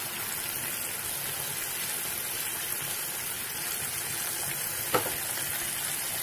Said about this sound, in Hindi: थोड़ी देर टमाटर को भी इसको साथ में मिक्स करके भूनना है